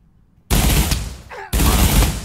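German MG34 machine gun fire in the Pavlov VR shooter game: two loud sustained automatic bursts, the second starting after a brief pause, close and harsh with no talking.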